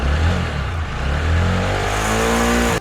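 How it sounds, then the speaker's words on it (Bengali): A motorbike engine revs steadily and loudly up close for nearly three seconds, a constant throaty roar that rises slightly in pitch before cutting off abruptly. "এই গাড়ির সাউন্ডটা এতটা মিষ্টি আপনাদের শুনলেই ভালো লাগবে"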